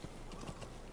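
A horse's hooves clip-clop at a steady trot in Metal Gear Solid V, faint and evenly spaced over a dense wash of background noise, with no talking.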